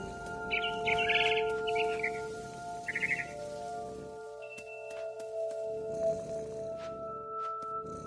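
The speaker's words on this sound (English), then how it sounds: "Then I heard chirping outside my window. It was a barn swallow going back to her nest." A barn swallow in the video game What Remains of Edith Finch chirps outside a window: short bursts of bright twittering calls, a cluster early on and a briefer one a moment later, over a steady hum with no talk.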